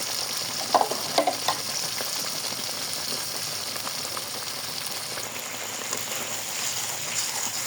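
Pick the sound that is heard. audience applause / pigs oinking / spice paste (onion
spice paste (onion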